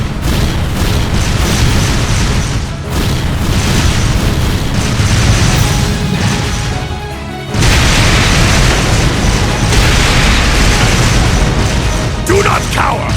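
Artillery barrage explosions in a video game battle boom loudly and repeatedly, heavy rumbling blasts that roll on almost without a break, with one short dip midway before the barrage resumes just as strongly.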